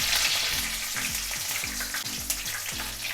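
Ginger and green chilies sizzle and crackle steadily in hot oil for a tempering, a close, continuous frying hiss with rapid popping and no voices.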